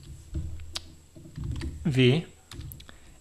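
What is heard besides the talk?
typing on a computer keyboard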